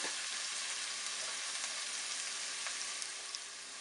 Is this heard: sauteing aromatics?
yes